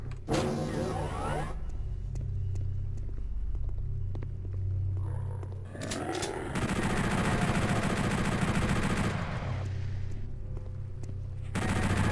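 Gunfire in Doom II on the PlayStation: loud, blasting game shots with rumbling bursts, including a sustained heavy volley in the middle and another burst near the end.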